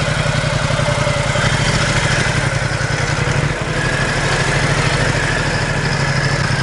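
A Ducati XDiavel motorcycle idles close by, its loud engine giving a steady, throbbing low rumble with even pulses throughout and no voices.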